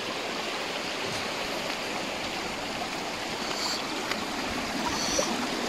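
Steady rushing of cold stream water flowing over rocks at the Coto mines, continuous and fairly close, with no voices.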